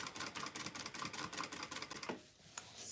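A sewing machine stitches a T-shirt quilt in a rapid, even run of close mechanical clatter, then stops abruptly, leaving a brief faint pause and a single tap.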